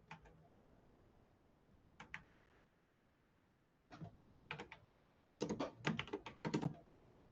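Someone types on a computer keyboard in short, irregular bursts of close, crisp key clicks with pauses between, growing denser toward the end.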